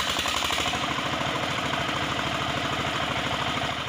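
A portable wood splitter mounted on a car chugs steadily, a fast rhythmic mechanical pounding over a continuous engine drone, close and loud, with no voices.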